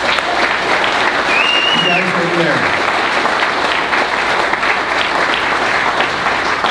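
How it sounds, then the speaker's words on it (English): A large crowd at a WEXIT Alberta separatism rally in Edmonton applauds in loud, continuous clapping that lasts throughout, while a voice briefly speaks over it near the start. "I just want to give a round of applause to everybody who ran under the mantle of Alberta separatism in the last election"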